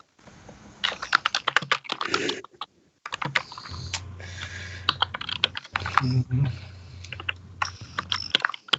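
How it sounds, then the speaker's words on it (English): Rapid clicking keystrokes on a computer keyboard come in uneven bursts with short pauses, while a voice murmurs briefly underneath. "What the typing? No, that's not me."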